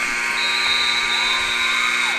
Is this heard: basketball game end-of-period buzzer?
yes